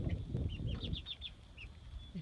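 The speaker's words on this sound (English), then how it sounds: "The little hens have made their way out to their first chicken tractor." Young hens out on pasture in a chicken tractor give a string of soft, high peeping chirps over a low outdoor rumble, with no voices.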